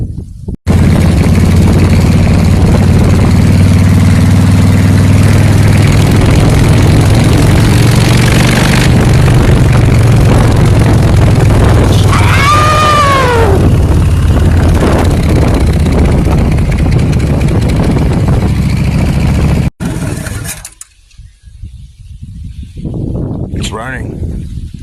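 A freshly started hot rod engine with a newly replaced starter runs loud and close at a rough steady idle for about twenty seconds, with voices over it, before it cuts out abruptly into near-quiet.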